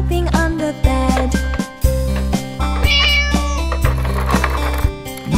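A cat meows repeatedly over a steady musical backing in a children's play setting, each meow loud and close with short pauses between them.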